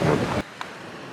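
Sea waves surging onto an eroding shore in Mataram, a loud broad wash of surf that suddenly cuts off to a quiet background partway through, with one faint brief knock afterward.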